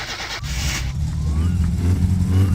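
A car engine runs steadily in My Summer Car with poor performance after spark plug wire changes, a loud low rumbling drone that builds slightly, with a brief higher whine early on.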